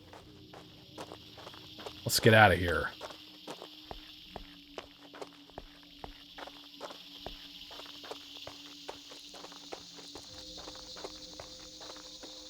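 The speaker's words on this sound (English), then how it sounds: "I can still hear its footsteps." Rhythmic footsteps of a creature in a video game thud steadily through the scene, mixed with a loud burst of game sound and a brief spoken line, over a constant high-pitched hum.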